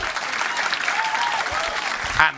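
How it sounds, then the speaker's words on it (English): Comedy club audience applauding steadily at close range, a dense wash of clapping that swells slightly near the end before cutting off. "So Toby only goes home with your applause."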